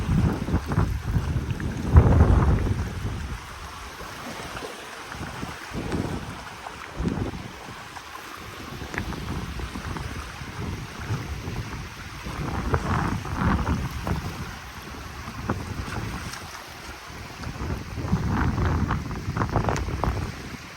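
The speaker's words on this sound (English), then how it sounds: "You can hear the thunder." Low rumbles of thunder from a thunderstorm moving in over the Gulf at North Naples, Florida, roll in and out over steady wind buffeting the microphone, with no voices.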